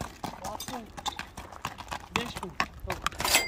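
A dark bay horse is led at a livestock sale, its hooves clip-clopping in a quick, uneven rhythm close by, partly under a voice.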